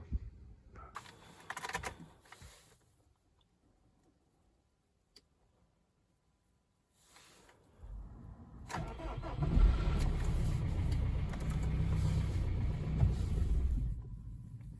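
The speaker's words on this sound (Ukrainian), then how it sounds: "оберти плавають, плавають і чік глохне" A Subaru/Opel 1.7 diesel engine turns over, catches and runs with a loud, uneven, rumbling idle, after a quieter stretch of clicks and shuffling.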